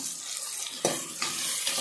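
Onions and green chillies sizzle steadily in a hot pan, a constant frying hiss broken by a few soft bumps as the contents are stirred.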